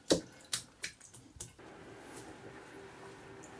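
Water is tipped out of a 14x17 tray where a salt print is soaking, giving a few quick, faint splashes and drips that trail into a soft wash of quiet noise.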